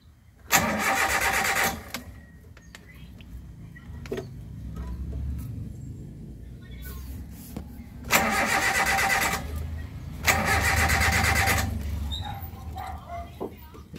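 A Suzuki APV with a check engine light cranks over and starts, with several loud bursts of cranking that catch into a running engine idling between attempts, close by.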